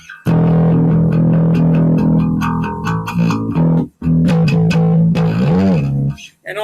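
An electric guitar played through effects on the humbucker near the bridge, loud distorted sustained notes and chords, briefly cut then resuming with a bent, wavering note.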